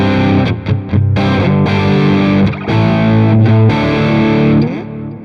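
Electric guitar through the Amplitube Marshall Brit 8000 amp sim, a loud, crunchy distorted tone with strummed chords and brief gaps between phrases.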